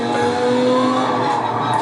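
A race car in a racing video game accelerates hard with a loud, steady engine drone and rising tonal whine, sustained throughout at close range.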